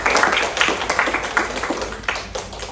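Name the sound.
audience clapping hands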